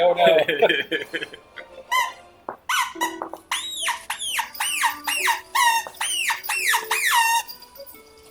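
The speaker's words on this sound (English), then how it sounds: "The husky puppy is just obsessed with her squeaky toy." A husky puppy chomps her squeaky toy, setting off a quick run of high, bright squeaks that come in repeated bursts, close and loud, with a short spoken exclamation near the start.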